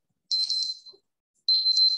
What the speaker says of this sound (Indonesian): maaf ya Raisa, kamu harus dengerin suara alarm itu lagi